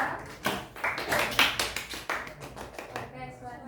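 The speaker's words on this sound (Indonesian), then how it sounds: "Berikan tepuk tangan dulu untuk kelompok 2." A classroom group claps for a student team after its micro-teaching presentation at a university: a short burst of fairly close, uneven hand claps that thin out toward the end, with voices under them.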